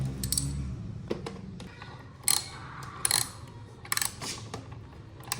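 Wrench set clicking and rattling while a screw is removed from the side cover of a Honda Bros 160 motorcycle; several short sharp metallic ratchet bursts, close and fairly loud, over a low hum, with no talking.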